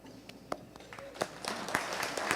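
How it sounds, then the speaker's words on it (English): Scattered clapping from an audience greeting special guests at a city address, rising from a few sharp claps into a fuller round of applause, moderately distant. "Give them a round of applause."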